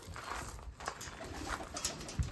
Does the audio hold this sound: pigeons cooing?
yes